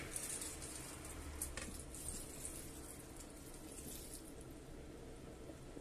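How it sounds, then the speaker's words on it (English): Half a litre of water poured into a pan of sausages and noodles on the stove, a faint, steady splashing pour that continues for several seconds with no talking. "That was half a litre of water."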